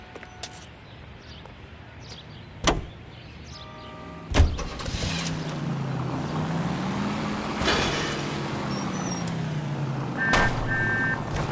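A car pulls up in a video game, its engine droning and shifting in pitch over a steady hum, broken by several sharp clunks and thuds and a few short electronic beeps near the end.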